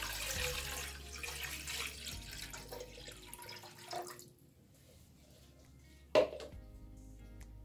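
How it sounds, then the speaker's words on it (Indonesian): About a liter of water is poured into a cooking pot for a moringa-leaf and egg vegetable soup: a splashing, running pour for several seconds that tapers off, then a brief sharp clunk near the end. "Kita tuang air sebanyak 1 liter."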